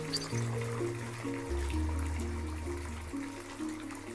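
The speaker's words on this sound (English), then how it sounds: "Steam starts filling the room as the faucet spews out hot water." Faucet spewing hot water in a video game shower, a steady gushing stream running the whole time over a low droning game soundtrack, no voices.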